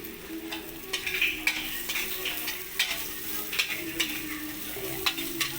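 Onion frying in a pan until golden brown, a steady sizzle broken by repeated scraping strokes of a spatula stirring, close and moderately loud with no talking.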